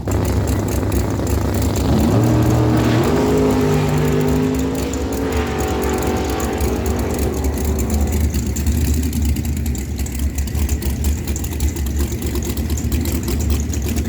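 At a dragway, a 1978 Chevy Camaro and a 2007 Race Tech dragster rumble at the line. A loud engine roar rises in pitch as they launch, then fades into a steady distant drone.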